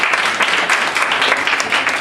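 Audience applause at an online entrepreneurs' summit session, a steady dense wash of clapping filling the short stretch at even loudness with no voices over it.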